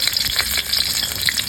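Chopped garlic sizzles in hot oil in a wok with a loud, close, continuous crackle and light stirring sounds. No voices are heard.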